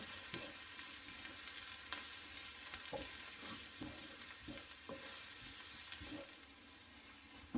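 Fried onions stirred in a pan with curry powder, sugar and salt just after the heat is switched off. A continuous sizzle carries repeated scraping spoon strokes close up, with no speech.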